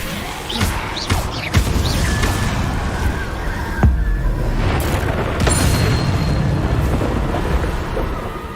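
Incendio fire spell from Hogwarts Legacy on PS5, several sharp booming bursts in quick succession over a loud continuous whooshing backdrop.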